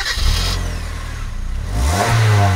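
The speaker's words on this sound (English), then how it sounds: "one weird part about this Soul is its starter motor" The starter motor of a 2011 Kia Soul with a 5-speed manual whirs and cranks, then the engine catches and revs up loudly, close by and with no talk.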